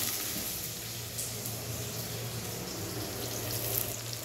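Garlic and onion frying in a pan with cooking ostrich nearby, a steady close hiss and sizzle with low hum underneath and no talk.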